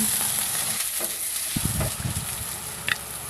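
Onion fries in a pan for a Filipino tilapia dish, giving a steady, close sizzle with a few soft stirring scrapes and clinks.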